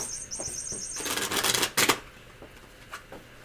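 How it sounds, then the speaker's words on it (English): A deck of tarot cards is shuffled close by in soft rustling riffles, building to a louder flurry of snapping cards midway before settling back into quieter handling. "Don't mind me shuffling here"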